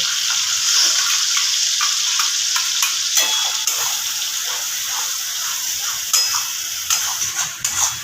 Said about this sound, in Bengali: খুব সুন্দর একটা মিহি পেস্ট তৈরি হয়ে গেছে দিয়ে দেব তেলের মধ্যে